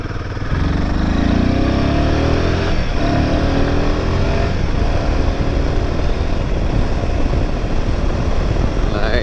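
A motorcycle engine roars steadily up close, climbing in pitch as it accelerates through gears, loud and continuous throughout.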